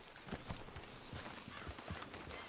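A horse trots in Red Dead Redemption 2, soft evenly spaced hoof thuds repeating in a steady rhythm, fairly faint against a low background hum.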